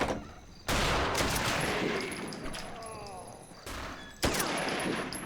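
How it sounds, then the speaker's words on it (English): Dense video game gunfire with bursts of rapid shots from enemies firing through windows in Brutal Wolfenstein, loud and continuous, with two brief gaps and no speech. "look at they're shooting through windows now"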